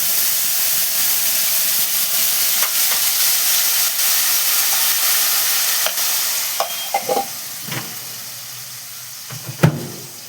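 Tomato paste dropped into hot oil with whole cumin and asafoetida: a steady soft hiss at first, then sharper crackling sizzles and stirring clatters burst out over the last few seconds, close and fairly loud.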